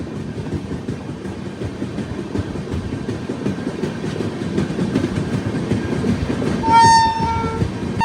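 The Yog Nagari Rishikesh–Trivandrum North SF Express rolls past close by with a steady rumbling clatter of carriages, and a short horn blast sounds near the end.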